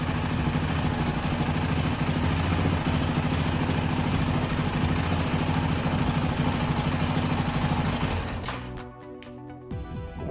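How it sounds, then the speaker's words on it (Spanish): A Yamaha Raptor 700 R ATV engine running steadily up close with a loud, even single-cylinder drone, then cut off near the end, leaving a few faint clicks and rattles. "vamos a arrancar la cuatrimoto para ver si tenemos presión de aceite"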